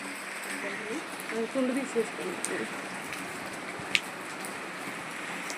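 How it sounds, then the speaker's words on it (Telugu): Heavy rain falls steadily on a rural farmhouse, making a continuous broadband hiss throughout with a few brief drips or taps, while faint voices murmur underneath. "దాని ఎఫెక్ట్ ఏమో బాగా కురుస్తుంది వాన"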